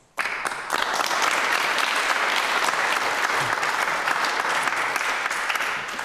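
Studio audience at a televised political debate in Stockport breaks into sustained applause after a question from the floor, loud and steady from start to finish with no voices over it.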